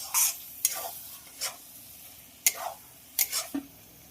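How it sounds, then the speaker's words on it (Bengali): Steamed vegetables and capsicum are stirred and tossed in a hot frying pan, giving repeated scraping strokes over a soft sizzle, close and clear with pauses between strokes. "সবজিগুলো দিয়ে আবারও খুব ভালো করে নেড়ে দেবো।"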